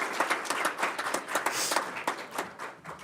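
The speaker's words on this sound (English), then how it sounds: "let's give her a round of applause" Audience giving a round of applause at a school board of education meeting, a moderate group clapping nearby, with individual hand claps clearly distinct in an uneven rhythm that tapers slightly toward the end.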